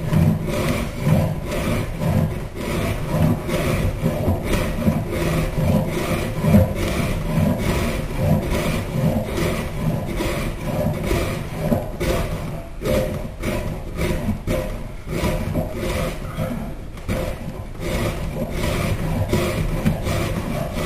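A scratch stock is drawn along wood furniture to cut a bead moulding, making a steady, continuous rasping scrape with repeated strokes, fairly loud and close, with no voices.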